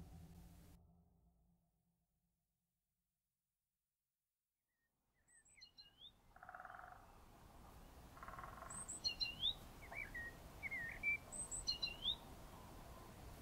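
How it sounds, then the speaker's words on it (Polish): Several small birds chirp in scattered short calls at dawn, faint and somewhat distant over a low outdoor hiss, starting after a few seconds of near silence. "Ptaki zaczynały poranne świergotanie"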